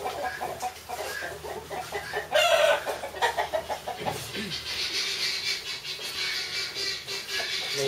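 Chickens cluck and a rooster crows outdoors on a farm, fairly close, mixed with scattered bird calls and a voice speaking briefly.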